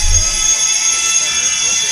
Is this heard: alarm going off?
yes